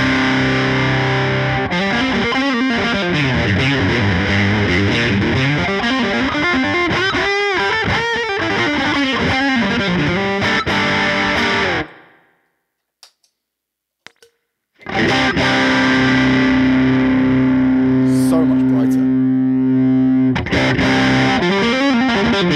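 Electric guitar played through a Tone City overdrive pedal bought on Temu, loud and distorted with ringing chords and bends, cutting out for a few seconds of near silence before the driven tone returns.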